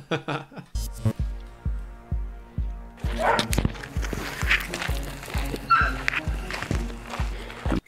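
Several boxer dogs bark in a steady, repeated rhythm, fairly close and loud, with overlapping barks and some background noise.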